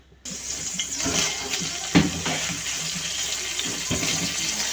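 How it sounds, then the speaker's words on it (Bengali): Tap water gushes steadily while dried fish is rinsed under it, a close, continuous rushing stream with a few brief splashes and knocks. "একটু শুটকি ধুয়ে দিচ্ছ"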